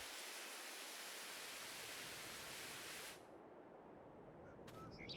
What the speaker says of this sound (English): I'm just gonna spray that off.